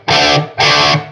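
An electric guitar played through a Greer Mini Chief 3-watt lunchbox amp with no effects rings out in two loud, strummed chords, each sustaining briefly before being cut short.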